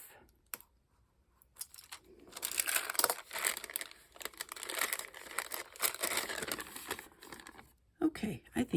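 A homemade mixed media stencil is trimmed, producing dense, crinkly snipping and rustling that runs for several seconds, fairly close and steady, with a short pause near the end.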